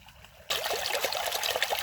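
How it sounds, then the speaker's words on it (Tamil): Liquid organic fertilizer for a maize crop trickles into an irrigation channel, starting suddenly and continuing as a close, steady splashing dribble with small irregular bursts. "இந்த மாதிரி நாங்கள் வந்து வாய்க்காலில் வந்து சொட்டு சொட்டாக விட்டுருவோம்"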